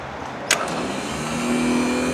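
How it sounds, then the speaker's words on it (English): Starter motor cranking on a rare Land Cruiser, a steady mechanical whir that holds throughout, with one sharp click near the start and a droning tone building in the later half. "No, starter motor's turning."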